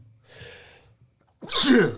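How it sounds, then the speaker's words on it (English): A podcast host lets out a big, loud sneeze close to the microphone, a single sharp burst preceded by a softer breathy intake, with no talking over it. "That might be the first sneeze on the podcast."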